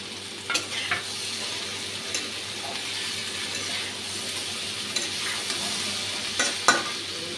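Fish frying in a pan with spices and tamarind: an even, close hiss of hot oil that keeps going throughout, broken by a few sharp clinks and scrapes of a spatula against the pan.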